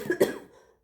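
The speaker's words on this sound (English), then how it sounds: "so I've been coughing randomly too" A single short cough, close and fairly loud, fading quickly into silence.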